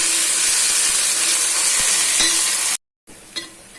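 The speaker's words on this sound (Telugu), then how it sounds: "అంతవరకు మనం ఫ్రై చేసుకుంటూ ఉండాలి." Ginger garlic paste for a country chicken curry sizzles loudly and steadily in a hot pan, with occasional stirring scrapes, then cuts out abruptly before a quieter sizzle resumes.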